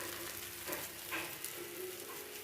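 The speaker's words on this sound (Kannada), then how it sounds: "ಇದು ಶಾಲೋ ಫ್ರೈ ಮಾಡ್ತಾ ಇದ್ದೀನಿ ನಾನು" Raw banana slices shallow-fry in a little oil on a tawa, giving a steady, faint, even sizzle with a few soft pops and no voices.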